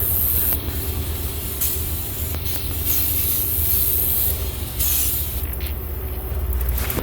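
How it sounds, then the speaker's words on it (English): Close aerosol spray hissing in several bursts, with short breaks between them as barbecue grill cleaner is sprayed onto a grill grease pan. "spray off my grease pan with barbecue grill cleaner"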